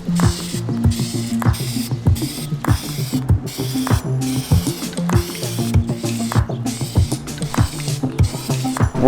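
Car parts for a Scion FR-S are spray painted in a run of short, rhythmic hissing bursts from a spray can, close by, with small clicks between sprays.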